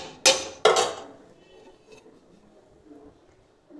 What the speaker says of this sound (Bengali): দেখুন ঢাকাটা খুলে দিচ্ছি।